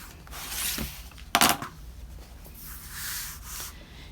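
Fabric quilt block strings being trimmed along one edge produce soft rubbing and swishing cuts close by, with a short sharp crunch in the middle and quiet intermittent scraping, no voices.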